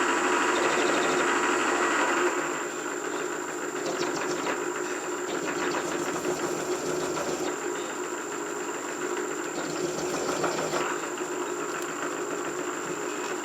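A countersink bit gently deburring drilled holes for mounting a small Wilton bench vise, a steady mid-pitched motor whir with light rasping cuts running throughout at moderate level, without talk.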